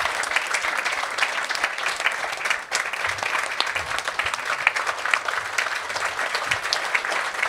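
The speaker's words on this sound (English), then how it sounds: "now is a time for huge applause for this 3 years of fight" Sustained audience applause fills a large hall at a security and peace event, dense steady clapping that holds loud and even throughout, briefly dipping once before carrying on.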